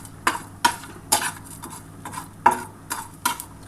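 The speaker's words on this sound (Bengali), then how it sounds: "দানা, লবঙ্গ, দারচিনি এগুলো আমি কিন্তু ভেজে নিচ্ছি" Cloves and cinnamon dry roasting in a pan, heard as a series of irregular light clinks and scrapes from stirring, close and fairly quiet with no sizzle.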